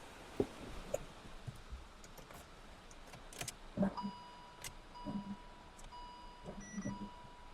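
A Fiat 500e electric car powering on: a few sharp clicks and soft mechanical knocks, then steady electronic chime tones and beeps ring out close by in a quiet cabin.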